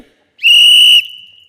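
One loud, shrill whistle of the kind protesters blow, a single steady blast of about half a second that ends abruptly, heard alone and close.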